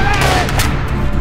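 Rapid gunfire volley in a wartime battle scene with Japanese troops, loud and dense throughout with booming bursts, mixed with faint shouting voices.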